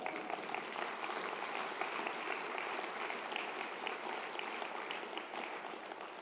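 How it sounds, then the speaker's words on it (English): A crowd applauds steadily, many hands clapping in a dense, even patter that holds for several seconds before easing slightly. "Let's give a round of applause for that."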